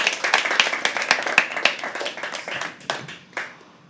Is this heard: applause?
yes